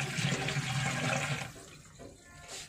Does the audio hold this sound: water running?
yes